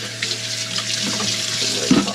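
Hot water running from a tap into a bucket for cleaning aboard a live-aboard boat, a steady close rush of flowing water with a small knock near the end.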